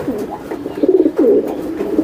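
A white racing pigeon in a loft coos close by, giving a few soft, throaty rolling coos in quick succession.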